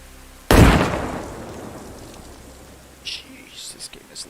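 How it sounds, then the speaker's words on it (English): A grenade explodes in the video game Warlords IV with one sudden, very loud blast that decays slowly into a rumbling tail, followed by a few faint, short sounds. "rip headphone users because that grenade was stupidly loud"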